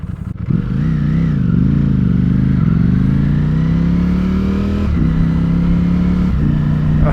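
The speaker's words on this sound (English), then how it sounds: "the quick shift is so smooth" A Ducati Panigale V4S sport bike pulls hard at close range, its engine note climbing steadily with quick-shifter gear changes breaking the drone into brief dips.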